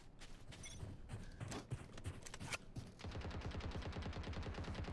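Rapid gunfire from the Valorant video game, first scattered bursts and single shots, then a steady fast automatic rattle filling the last two seconds, loud and close with no talk over it.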